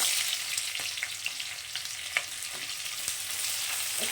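Chopped green chilli and onion fry in hot oil for a Kolkata-style chowmein, giving a steady close sizzle with scattered crackles and pops throughout, no voices.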